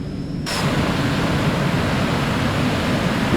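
Eclipse 550 light jet accelerating down the runway for takeoff in X-Plane 11, a steady loud broadband engine roar that swells in abruptly and holds constant.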